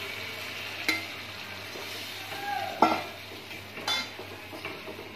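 Cooked masala sizzles and fries in a pan as dal is added and stirred for dhaba-style dal makhani, a steady frying hiss with occasional scrapes and clinks of a spoon, close and without talk.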